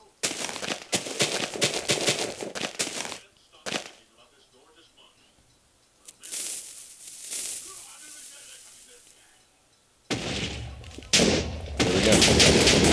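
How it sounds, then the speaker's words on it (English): Explosions in a video game with a printer block mod: bursts of sharp, crackling blasts come in loud clusters, separated by quieter gaps, with a final heavy burst at the end. "What better way to end anything than with an explosion"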